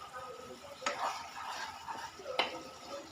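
Spice paste for a spicy taro curry fries in oil over low to medium gas flame, a faint soft sizzle with two sharper clinks of a spoon stirring against the pan.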